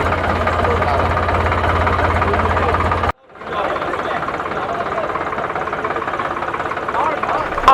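A tractor engine runs loudly and evenly at a ceremony where the tractor is handed over, cutting out briefly before resuming with a steady drone, with speech over it.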